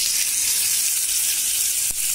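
Curry leaves sizzle in hot oil as tempering for a mint tomato chutney, a steady loud hissing crackle throughout with one brief pop near the end.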